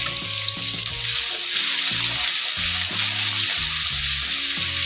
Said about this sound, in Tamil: இப்போ நான் வெட்டி வச்சுருக்கிற வெங்காயத்தை போடுறேன்.